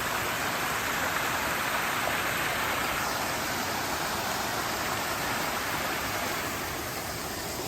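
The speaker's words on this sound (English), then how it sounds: "Long waterfall." A steady, loud rush of falling water roars without pause, a dense broadband hiss that stays constant throughout.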